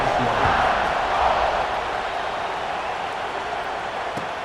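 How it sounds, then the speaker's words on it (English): A stadium crowd in a college football video game with LSU and Alabama playing, a steady loud roar of many voices cheering throughout with no pauses. "this crowd now ready to get behind them."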